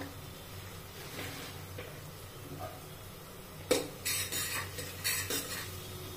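A spoon scrapes and clinks in a pan as Khandeshi masala is stirred into the food, soft stirring at first, then a run of sharper, louder metal scrapes near the end.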